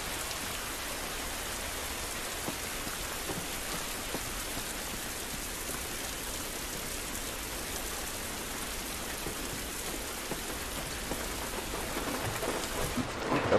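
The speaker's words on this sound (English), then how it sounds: "This rain ain't gonna do us any good." Steady heavy rain pours down in The Last of Us, a dense continuous hiss of drops striking surfaces outdoors, loud and unbroken throughout with no voices.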